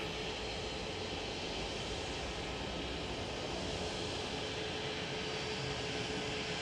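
A Cessna Citation jet landing at Manchester Airport gives a steady, broad engine roar, continuous and fairly loud for the whole stretch without distinct changes.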